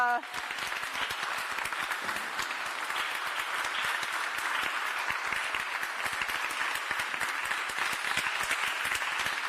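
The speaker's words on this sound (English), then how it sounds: "So warm applause, I think, for a very passionate, eloquent, comprehensive..." Sustained, dense applause from a ceremony audience at an EU event for a women's rights roadmap, with steady clapping filling the room for nearly ten seconds without a break.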